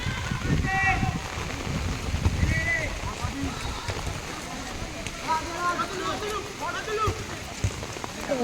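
Heavy rain pours steadily in Chakdaha, a dense continuous hiss of drops on surfaces near an open field where football is being played, with voices and shouts of people talking throughout.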